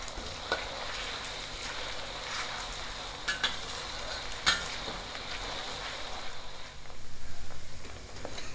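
Onions, ginger and garlic fry in a pan with a continuous close crackling sizzle, broken by scraping stirs and a few sharp clinks of the utensil against the pan.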